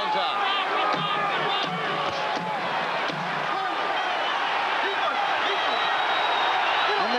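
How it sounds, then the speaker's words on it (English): A boxing arena crowd at a heavyweight title fight rises and cheers, a dense, steady roar of many voices with shouts and whistles throughout, while a commentator talks over it. "And the crowd is up on its feet."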